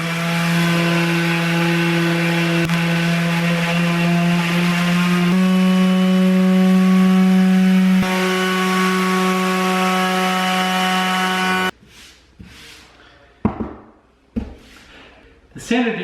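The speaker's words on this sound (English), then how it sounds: "what I bought this sander for, and that's to use it as an edge sander for the flooring we just laid down in this room" DeWalt DCW200 quarter-sheet palm sander running steadily as an edge sander on newly laid hardwood flooring, a loud constant motor whine with a pitch shift midway, then stopping into brief knocks and handling noises.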